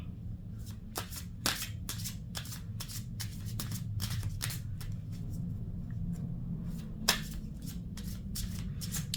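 Spiritual message cards being shuffled by hand in a quiet room, a steady run of crisp papery riffles and flicks with a few sharper slaps, close and clear with no voice.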